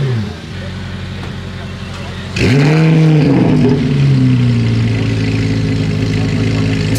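A Corvette Z06 with a $10,000 aftermarket exhaust idles with a rumble, then revs hard with a sharp rising roar that slowly settles into a loud, throaty hold, close by with voices nearby.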